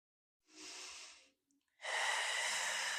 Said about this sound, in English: I'm going to take one more big breath in and out.